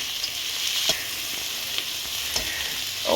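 Onions and garlic frying in a pan as a steady sizzle, with a few soft scrapes from stirring breaking through at intervals.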